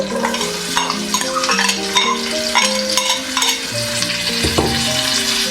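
Finely chopped onions fry in a cup of hot cooking oil, a loud, constant sizzle broken by the scrape and clink of stirring against the pan.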